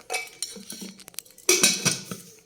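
Rice being served from a pot onto a plate in a home kitchen, with close, clear clinks and scrapes of a serving spoon against metal and dishware in short, irregular bursts.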